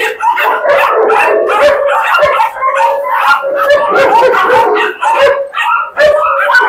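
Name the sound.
Great Dane dog barking in cage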